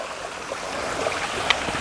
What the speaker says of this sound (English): Itty bitty stream coming down here.